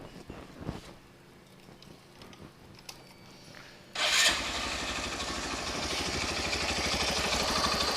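A fuel-injected engine with a newly replaced petrol filter cranks and catches after a quiet stretch, then holds a loud, steady high idle with its revs sitting raised and slightly climbing.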